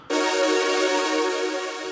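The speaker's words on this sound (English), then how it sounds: "create a full melodic chord on the keyboard" A full melodic chord on a synth keyboard starts abruptly and sustains as a rich, even tone, slowly fading slightly over two seconds with nothing else heard.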